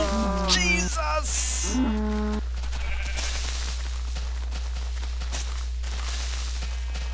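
Minecraft cows let out a few drawn-out, tonal moos in the first couple of seconds. A low steady hum and soft game noises follow, with no voices.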